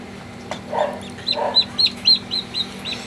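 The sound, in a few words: newly hatched heritage chicken chick chirping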